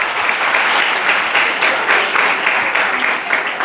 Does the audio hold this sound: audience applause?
yes